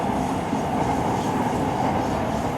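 Train running through Bangkok near Bang Sue Grand Station, a steady broad rumble of wheels and carriage noise heard from inside, continuous and fairly loud with no talking.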